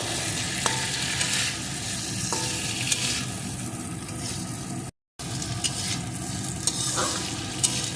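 Potato and bitter gourd sautéing with spices in a pan, a steady close sizzle broken by intermittent stirring scrapes and a momentary gap midway, no speech.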